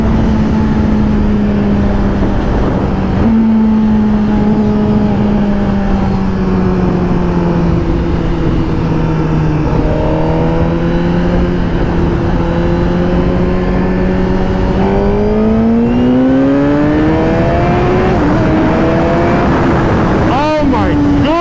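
Motorbike engine revving hard through successive gear pulls, a loud continuous drone whose pitch climbs, drops at each shift, then climbs again across the run, staying close and dominant throughout.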